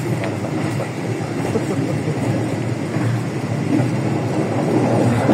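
A Lodaya passenger train runs at about 110 km/h, making a steady, loud rumbling roar with a faint clatter of wheels on rail throughout. No voices are heard.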